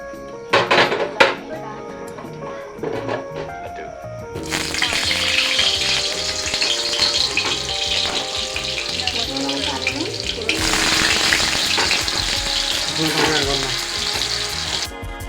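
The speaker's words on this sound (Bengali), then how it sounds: "এখন আলুটা ভেজে নেব আলুটা ভেজে নেব তেলটা মোটামুটি হিট হয়ে গেছে" Potatoes frying in hot oil in a pan for a home-cooked chicken dish, a steady loud sizzle with some clatter and tap-water sounds near the start before the frying swells and then grows louder again, voice faintly present.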